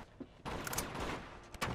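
Bursts of AK rifle fire in the Uncharted 2 video game, several sharp close volleys with brief gaps in between, loud against a quiet game background.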